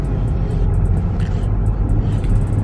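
A car rolls along slowly on a street lined with shops and restaurants, its engine a loud, steady low rumble with road noise heard from close inside, no talking.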